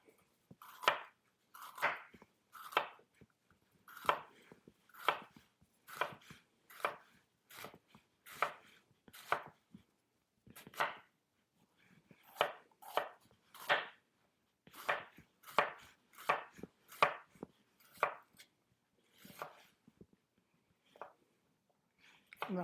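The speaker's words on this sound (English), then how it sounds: "And now we'll take this and slice this into thin slices so it'll cook evenly." A knife slices food into thin pieces on a cutting board, a long run of crisp, evenly spaced chopping taps with brief pauses, close and clear against a quiet background.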